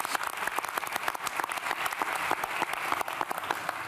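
Audience at a college commencement claps in sustained, dense applause, many hands beating in rapid irregular overlap at steady loudness for the full stretch, with no speech.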